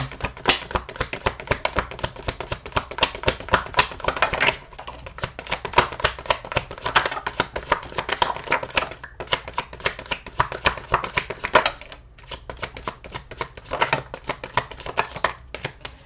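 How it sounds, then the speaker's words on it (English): Tarot cards being shuffled in steady rapid riffles and taps, close and dry, running continuously with brief pauses and no talking. "So let's pull some cards on this"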